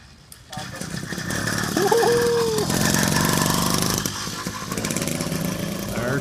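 A 49cc motorized bicycle engine bump-started by popping the clutch, then running. A buzzy, rough small-engine drone rises after a brief pause and keeps going steadily and close, with a voice speaking briefly over it.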